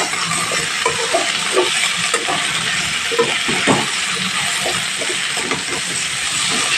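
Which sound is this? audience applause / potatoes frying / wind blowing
potatoes frying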